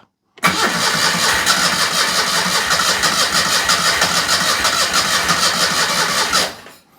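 A Citroen 2CV's small engine, just upgraded, cranks and catches, then runs loud and close with a steady rough buzz for about six seconds before cutting off.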